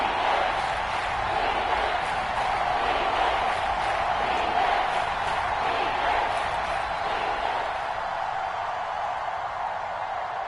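Crowd noise in the Madden 22 football video game, a broad sustained roar of a stadium crowd rising ahead of a big third down, loud and continuous throughout with no let-up.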